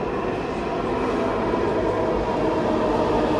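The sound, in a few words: metro train arriving at station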